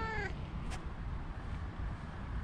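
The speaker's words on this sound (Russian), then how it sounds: "Ну вот кот тут пришел, жрать хочет." A hungry cat gives a short meow outdoors at a cemetery in Neu-Ulm, one brief close cry at the start over steady wind and background noise.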